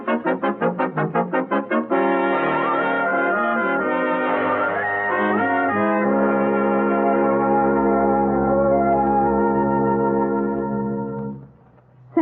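A multi-tone doorbell chime rings out loud and close, opening with rapid repeated strikes and then sustaining a long, ringing melodic tone that decays near the end.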